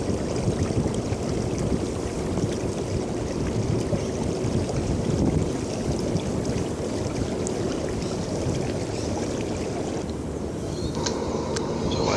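A fishing boat pushed by an electric battery motor runs downstream on the Coomera River, a steady washing hum of water and motor that goes on without a break, with a brief faint clicking toward the end.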